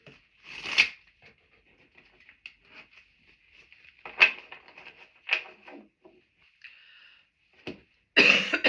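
Scattered coughs break a quiet room, a sharp one early, more in the middle, and a louder burst at the end, with small shuffling noises between.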